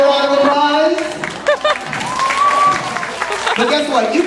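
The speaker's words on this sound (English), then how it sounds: "Give her a round of applause." Audience members at a juggling show clap for a volunteer, scattered bursts of applause mixed in and around a performer talking loudly nearby.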